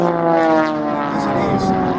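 An Extra 300 aerobatic propeller aircraft flies a display at an airshow at Little Gransden, its steady engine drone holding for two seconds and shifting slightly in pitch as it passes at moderate distance, with faint voices underneath.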